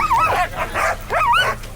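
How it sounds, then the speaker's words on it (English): Sled dogs at the start line of the Kuskokwim 300 sled dog race, yipping, whining and barking excitedly in close bursts over outdoor background noise. "Lev, 46 years old, mushing out of Team Ollie Kennels with 30 dogs"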